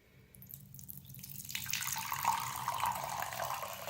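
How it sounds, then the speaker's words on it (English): Water runs from the tap of a Survivor Filter Ultra gravity filtration system, starting after a quiet first second and building into a steady, close hiss of flowing water that holds for several seconds. "Turn on the tap and let's see if any purified water comes out here."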